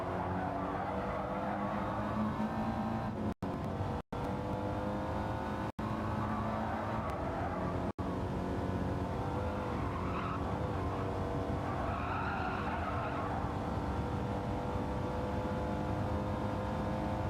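Audi TT Gr.4 race cars in Gran Turismo 7 skid with squealing tyres over a steady engine roar, loud and continuous across the clip, briefly cut out by a few abrupt dropouts.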